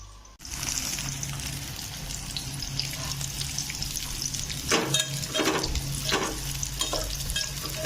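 Onion, ginger-garlic paste and ground coconut spice mix frying in oil, a dense continuous sizzle near at hand with a few scraping stirs toward the end.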